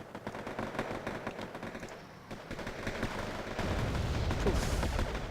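Tank cannon and gunfire in Wargame: AirLand Battle, likely from an M41 light tank, with repeated dense shots and booms in an ongoing battle that swell louder toward the end.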